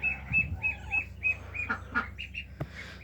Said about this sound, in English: So there's the baby duck.